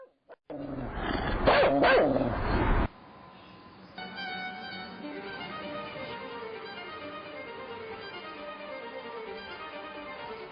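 Several dogs bark loudly and close by in a rapid, dense burst for a few seconds, then it cuts to a quieter stretch of low, steady background sound.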